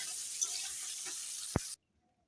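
Cauliflower florets sizzle in hot oil in a kadai, a steady bright frying hiss with a single sharp clink near the end before the sound cuts off abruptly.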